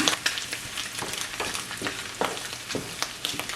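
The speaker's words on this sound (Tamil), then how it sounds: "காஞ்ச மிளகு போட்ட அப்புறம் ஒரு நிமிஷம் இதை பொறிச்சிங்கன்னா காணும்" Shrimp and dried red chillies frying in a pan, a steady close sizzle broken by repeated sharp crackles and spatters throughout, with no talking.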